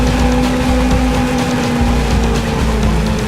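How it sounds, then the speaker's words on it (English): A car driving at speed in the racing video game Powerslide, with a loud, steady engine drone and a constant hum that holds throughout, with no voices. "My car is going further and further forward."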